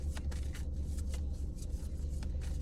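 Tarot cards are shuffled in a series of soft, quick riffling snaps over a low background rumble, close but faint.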